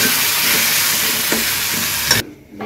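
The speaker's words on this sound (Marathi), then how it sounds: "म्हणजे थोडं कांदा आणि टोमॅटो नरम होण्यासाठी ना, चांगला फ्राय होतो मीठ वगैरे टाकल्यानंतर" Onion and tomato fry with salt in a pan, a loud, close, steady sizzle with occasional soft stirring scrapes, cutting off abruptly near the end.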